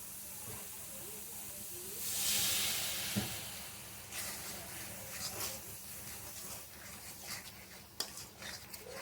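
Water poured into spice masala frying in a little oil for an egg and pointed gourd curry hisses in a loud sizzling burst, then settles into quieter crackling with light clinks of stirring.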